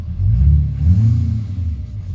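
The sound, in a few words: diesel truck engine running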